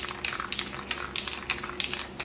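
An aerosol spray paint can sprays white paint in a rhythmic series of short hissing bursts, about six quick passes close by, each a sharp airy spurt with no talk over it.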